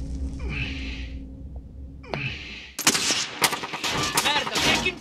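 Bursts of gunfire in a multiplayer first-person shooter game, loud and close, starting with a couple of isolated shots and building into sustained rapid automatic fire that crackles for several seconds.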